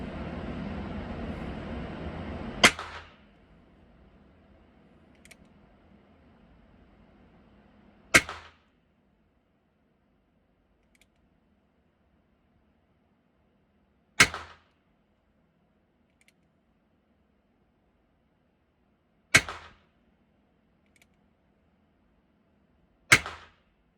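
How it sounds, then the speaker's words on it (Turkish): Five sharp, evenly spaced rifle shots ring out at an outdoor shooting range in Switzerland, likely from a Schmidt-Rubin K11, each a loud crack with a brief tail, separated by quiet pauses after a rumbling start. "Evet, şimdi tekrardan atıyorum."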